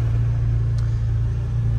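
Engine of a 2023 Can-Am Defender Limited side-by-side holding a steady low hum around 4,000 RPM while cruising slowly, close and continuous with no talk.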